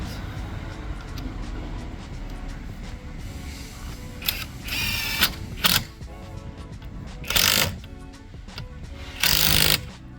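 An impact wrench works on the wheels of a VW Golf GTI Edition 30 in a workshop, firing several short, loud rattling bursts close by over a steady background rumble.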